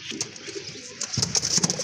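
A pair of good-quality male pigeons of two colours coo in a pigeon collection, soft throaty calls mixed with faint chirps nearby, growing louder toward the end.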